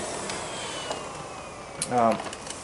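Miele Dynamic U1 upright vacuum cleaner running with suction, a steady whirring drone with a brief louder tonal surge near the end, heard under someone talking.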